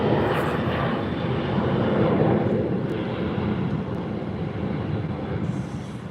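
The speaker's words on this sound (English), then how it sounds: "Hitting the reverse thrust on runway 25 left." Boeing 777-300ER airliner landing on runway 25 left at LAX with reverse thrust engaged, a loud, sustained broadband engine roar that holds steady and fades slightly over several seconds, heard from a distance outdoors.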